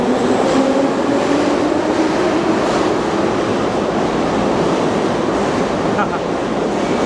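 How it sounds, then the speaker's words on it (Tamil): An old Soviet-era train in Russia rumbles along with loud, continuous clattering and rushing noise, steady throughout; faint voices may be buried underneath. "பழைய சோவியத் காலத்து ட்ரெயின்."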